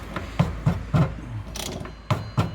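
A special tool unscrews the fuel system cap on a car: a series of close, knocking and ratcheting clicks in an uneven rhythm, with a short scraping turn between them and no talking.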